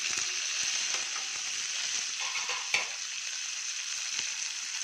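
Cumin, black pepper and rock salt crackle in hot oil in a pan for a spicy-sweet wheat dish, a constant close sizzle with a single sharp clack of a utensil partway through.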